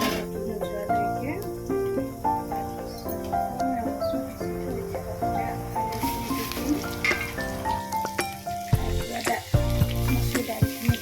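Garlic frying in oil for masoor dal, a steady crackling sizzle running throughout alongside bursts of tonal music, with stirring clatter and louder scrapes toward the end.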